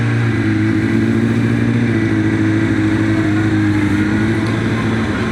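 A Suzuki GSX-R SRAD sport motorcycle on a track, its engine droning loud and steady with a constant close-miked hum and slight pitch shifts, no talking.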